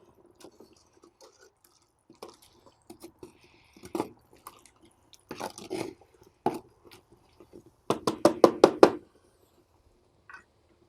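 Quicklime reacting as water is added, with sparse pops and knocks that build into a dense burst of sharp crackling bubbles near the end, close and fairly loud, with no voices.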